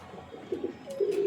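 A golden pigeon cooing close by, a few soft low rolling coos that swell into a longer sustained call, with no talk over it.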